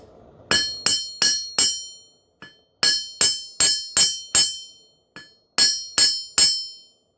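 Bright ringing ball-peen hammer strikes on metal while forging an arrowhead come in quick groups of three to five blows, sharp and close, with short pauses between groups.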